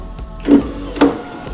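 Power window motor in a BMW E36 328is raising the glass: two short, close whirring bursts about half a second apart over a low steady hum.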